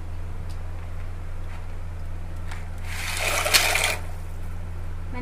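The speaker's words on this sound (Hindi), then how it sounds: "पानी गर्म हो चुका है, बॉयल भी आ गया है। अब मैं इसमें पास्ता डालूँगी।" Dry pasta tipped into a pot of boiling water for white sauce pasta, giving a brief rush of splashing and bubbling in the middle over a steady low hum from the stove, with no talking.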